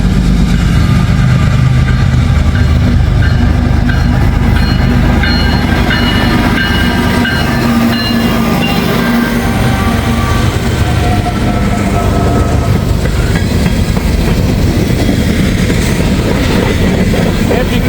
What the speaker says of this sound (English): Looks like we got a coal train.